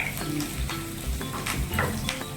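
Green chillies drop into hot oil and sizzle steadily, a close crackling hiss with soft stirring and faint pan clinks running through the short stretch.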